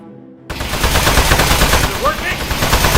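Rapid, loud gunfire in the Desk Job video game hammers a metal enemy, starting abruptly after a quiet half-second and continuing as a dense burst with faint metallic pings.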